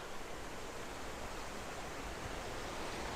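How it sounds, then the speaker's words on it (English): Steady rushing water from a small waterfall spilling over a brook, a constant broadband wash with no voices. "I'm even standing on a little waterfall."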